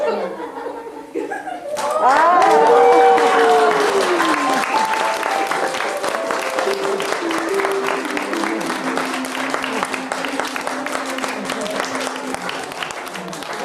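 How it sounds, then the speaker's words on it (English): An audience bursts into loud applause after the finale of a stage magic show, the clapping swelling suddenly and holding steady, mixed with scattered laughter and chuckles, plus a few cheers near the start. "receive your well-deserved applause"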